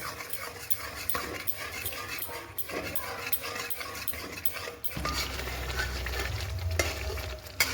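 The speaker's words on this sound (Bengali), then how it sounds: "এবার আমি দিয়ে দেবো ফেটিয়ে রাখা দই আর মশলাটা। এটাকেও হালকা আঁচে আমাদের কষিয়ে নিতে হবে" Beaten yogurt and spice paste stirred and fried over low heat for a Bengali prawn dish, a steady sizzle with scraping stirs that grows louder and busier partway through, with a low rumble beneath.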